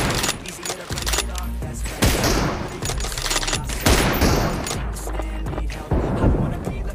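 Gunfire in a multiplayer shooter video game: rapid bursts of loud, close shots and sharp cracks in clusters, with brief pauses between volleys and a voice talking over parts of it.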